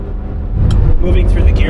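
A Ferrari 328 driving hard on a mountain road, its engine a loud, steady rumble that swells about halfway through and holds at close range under the road noise.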